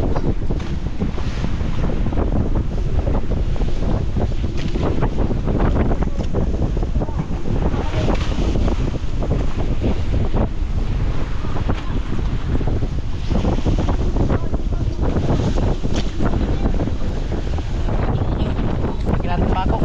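Strong, continuous wind from typhoon Enteng making landfall roars and buffets the microphone, with voices talking faintly underneath.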